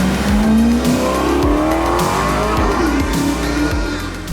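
A 2010 Maserati GranTurismo S engine revs loud and close while the car is driven, pitch sweeping upward through the gears with brief tyre squeal, the note filling the cabin with no talk.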